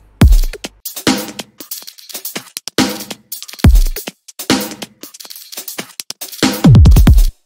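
A punchy electronic drum loop with deep booming kicks and crisp layered hits repeats in a steady pattern, loud and up front.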